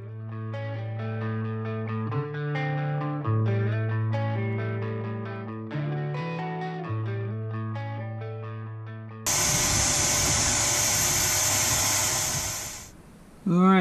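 A vacuum cleaner cleaning the carpet of a Subaru Forester, a loud steady hiss that starts abruptly after a stretch of music and runs for about four seconds before cutting off.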